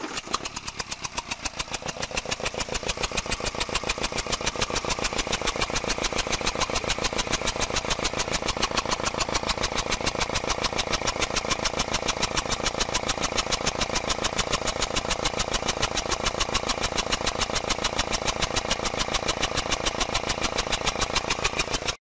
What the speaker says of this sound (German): das kurze Video blende ich noch gerade schnell ein, wie der Motor gelaufen ist mit einer defekten Dreiklappe